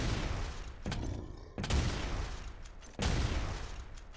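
Rocket explosions in Quake 3 DeFRaG, three heavy booming blasts in quick succession, each a loud broadband burst that decays into a roaring rumble.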